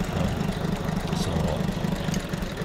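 A Mitsubishi 6D16 diesel engine idles with a fuel line opened, giving a steady, close, low rumbling run with an even pulsing rhythm and no voices.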